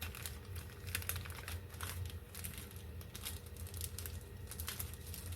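A small plastic wrapper crinkles softly and steadily in quick, faint rustles as it is folded around pieces of soft pineapple Karachi halwa, with no voices.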